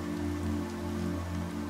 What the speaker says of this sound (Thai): ดูเม็ดฝนที่หยดบนใบหน้าสิคะ